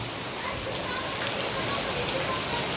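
A dense, even hiss of heavy rain falls steadily in Baruipur throughout, with no other clear sounds standing out.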